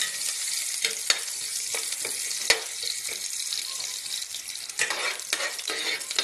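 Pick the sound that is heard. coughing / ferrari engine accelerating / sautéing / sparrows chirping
sautéing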